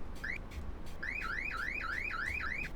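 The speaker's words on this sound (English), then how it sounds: "You make sure your assault alarm's working" The assault alarm on a bus in Croydon Bus Simulator wails loudly and continuously, sweeping up and down in rapid repeating cycles after a short opening chirp.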